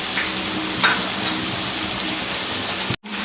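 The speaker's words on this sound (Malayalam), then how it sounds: "ഇതിൽ 1-2 ഇളക്കി വെച്ച് നമുക്ക് ഈ പച്ചമുളകും ചേർക്കാം, പൊട്ടറ്റോയും കൂടെ ചേർക്കാം" Green chilies and potato fry and get stirred in hot oil for an egg curry, a loud, dense, continuous sizzle with occasional stirring scrapes, close up, ending in a brief cut near the end.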